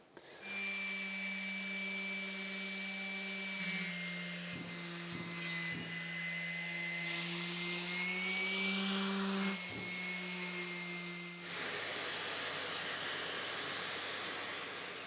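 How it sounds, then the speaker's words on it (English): Electric sander fitted with coarse 40-grit paper shaping a wooden boat stem, a steady loud motor whine with a rubbing grind that shifts pitch as pressure changes, running continuously before cutting off near the end. "So I've been using a pretty coarse grit 40 for the sander to do this."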